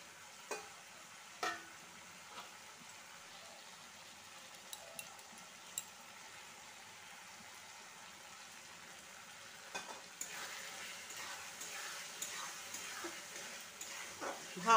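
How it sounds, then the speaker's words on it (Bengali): A spice masala with yogurt is stir-fried in a pan, a faint low sizzle with a few soft scraping and tapping strokes of a spoon, growing slightly busier toward the end, no voices. "ভালো করে এটা কষিয়ে নেব।"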